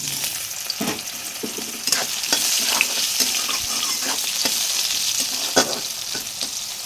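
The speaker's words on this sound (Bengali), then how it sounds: "তো প্রথমে আমি এটাকে ভালো করে ভেজে নেব সয়াবিনটাকে।" Soybean chunks fry in hot oil in a wok, giving a steady dense sizzle with scattered stirring scrapes and clinks throughout, close and fairly loud, with no voices.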